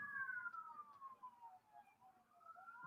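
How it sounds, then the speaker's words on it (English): Police sirens wail past a house at high speed, a falling then rising tone that stays steady and fairly close for the whole stretch, with nobody talking. "Did you guys just hear the sirens going by my house at like breakneck speed?"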